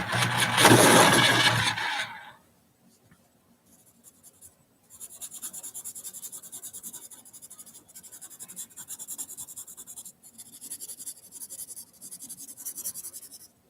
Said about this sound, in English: When you use a pencil sharpener, it's going to be loud,